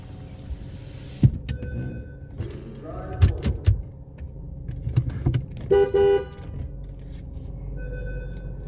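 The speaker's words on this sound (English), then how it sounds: "I honk like that when I'm entering the bay" A single short car horn honk sounds amid mechanical clicks and rustling inside a vehicle at a gas station car wash bay, with a low idle hum underneath.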